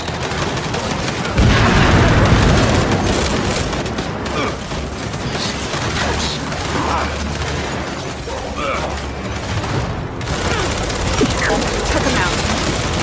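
Heavy gunfire from turrets in the Gears 5 video game, with sustained rapid bursts and booms filling a dense battle soundscape, and voices shouting over the din.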